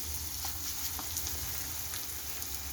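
A ragi rotti goes onto a hot griddle over a gas flame, giving a soft, steady sizzle with faint crackles throughout and no voices.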